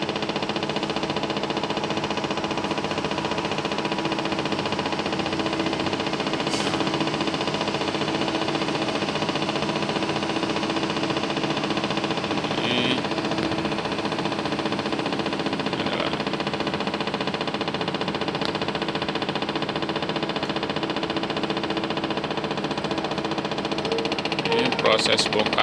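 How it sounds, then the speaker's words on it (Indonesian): Heavy container-unloading machinery working beside a ship at Loktuan port in Bontang, a steady loud engine drone with a low mechanical hum that holds constant throughout, with occasional faint clanks. "Ini bongkaran kontainer."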